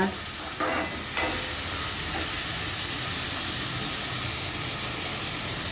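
Bitter gourd cooking in oil in a pan, a steady close hiss and sizzle with a couple of brief stirring scrapes near the start, no talking over it.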